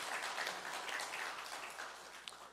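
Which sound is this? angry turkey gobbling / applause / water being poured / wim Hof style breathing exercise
applause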